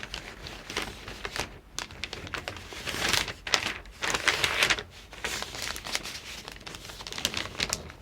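A paper sewing pattern for a front bodice block is folded to close the bust dart, producing close, soft crinkling and rustling in uneven bursts.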